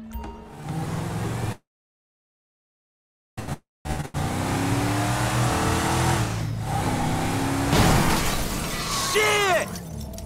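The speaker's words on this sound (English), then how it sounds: "Drive into it. Right through the fucking window." Car smashing through a shop window in the video game GTA V, with engine roar, then a burst of shattering glass and crunching impact after a short silent gap, loud and close.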